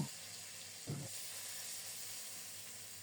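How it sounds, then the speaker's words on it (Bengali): Topse fish frying in mustard oil, a steady, even hiss of sizzling with a single soft thump near the start, close and continuous with no voices. "আরও একটু সরিষার তেল দিয়ে বাকি মাছগুলো দিয়ে দেব"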